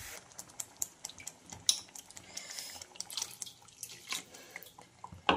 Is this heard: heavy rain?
no